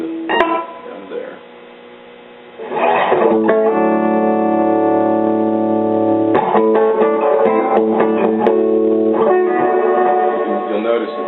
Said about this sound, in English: let me give you an idea what the reverb can do